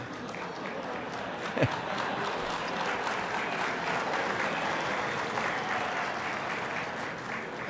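Audience applause fills an awards banquet hall, a steady spread of many hands clapping at moderate distance, with a faint voice or murmur mixed underneath.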